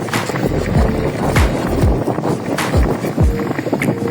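An electric bike speeds up on a paved road, with a loud, continuous rolling rumble, gusty wind noise on the microphone, and repeated low thumps from bumps in the surface.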